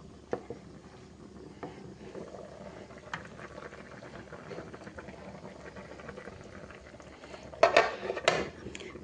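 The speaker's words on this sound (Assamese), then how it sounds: "চব্জি উতলি আছে" A pot of vegetable curry bubbles steadily at a boil, a low continuous simmering texture with occasional clinks of a pot or utensil and a louder clattering burst near the end.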